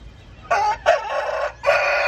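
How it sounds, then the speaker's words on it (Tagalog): A large Shamo Asil rooster crows loudly and close by, its call broken into a few strained bursts. "Malaking manok to si Kano mga kuys."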